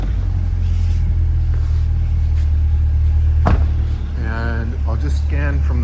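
2020 Chevrolet Corvette Stingray 2LT Z51 idling, a deep steady low rumble throughout, with a brief knock and some faint voice-like tones near the end.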